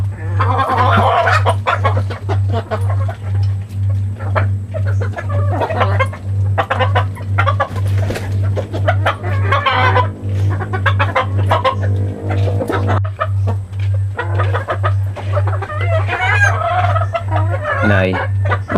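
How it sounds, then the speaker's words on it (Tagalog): Chickens cluck and a rooster crows on a farm, loud and close, with a steady low hum running underneath and a few voices talking briefly. "marami na pala manok ang tatay eh"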